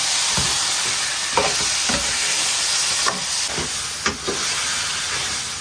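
Pork ribs and pork intestines stir-fried in a wok, with a steady hissing sizzle and a few sharp scrapes and clanks as the food is tossed.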